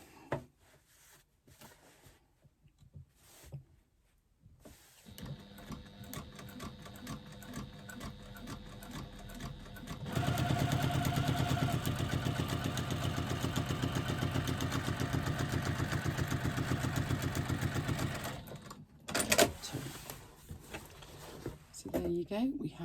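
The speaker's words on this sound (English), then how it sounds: "There you go, we have two lines of stitching and our bottom seam is now beautifully stitched open." Sewing machine stitching the bottom seam of a fabric item, a steady mechanical whirring hum running for several seconds between quieter start-and-stop passages, with a voice talking at times.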